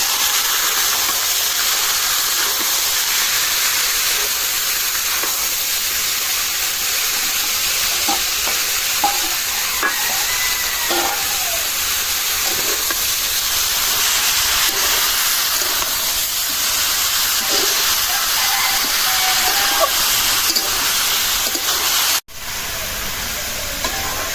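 Leafy greens fry in a hot pan in a village kitchen, giving a loud steady sizzle and hiss with occasional stirring scrapes throughout, a brief break near the end, then the sizzle returns.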